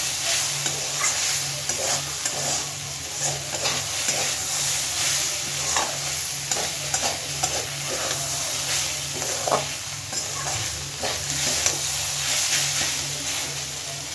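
Kohlrabi frying in a pan, a steady bright sizzle with repeated scraping stirs of a spatula, close and continuous, with no talking.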